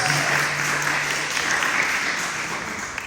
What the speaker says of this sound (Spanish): Le damos la bienvenida también, una aplausita a los hermanos